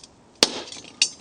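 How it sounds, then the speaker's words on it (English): A hammer strikes a metal punch on a stainless steel pot lid, marking a spot for a drill bit: two sharp, ringing metallic taps about half a second apart, close and clear in a quiet room. "Get your hammer and punch the spot so you can start the drill bit."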